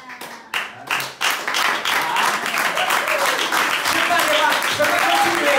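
A church congregation acclaiming and clapping, a few scattered claps at first, then sustained applause with cheering voices that builds and holds loud to the end.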